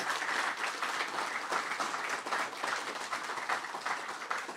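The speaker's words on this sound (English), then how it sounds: "Round of applause for the development team." Dense, steady applause from an EverQuest fan gathering crowd, many hands clapping at once in a continuous roar that holds evenly throughout.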